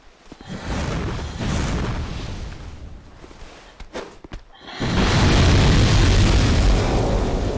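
Bombs going off in Dark Souls 2: Scholar of the First Sin during a boss fight, with muffled thumps early and a loud, sustained blast roaring through the last few seconds.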